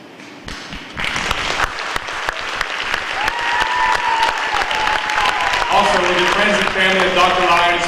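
Crowd at a Hall of Fame induction ceremony giving Dr. Lyons a round of applause, loud continuous clapping that builds quickly and carries on with cheering voices and a tonal whoop rising through it.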